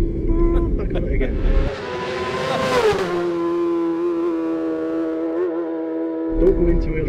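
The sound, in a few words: racing motorcycle revving at Isle of Man TT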